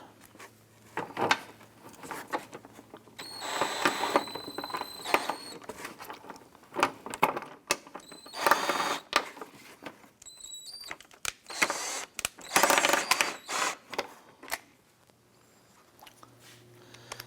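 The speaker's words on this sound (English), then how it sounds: "Let's get our lower bolt installed." Installing a bolt on a windshield washer reservoir of a 2004-2008 Acura TL: close, clicking and scraping tool sounds with short ratcheting bursts and metallic clinks in a quiet garage.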